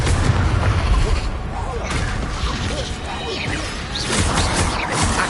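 Confringo fire spell explosions in the Hogwarts Legacy video game: loud, dense booming blasts and crashes piling on one another through a chaotic combat mix, with a voice heard between them.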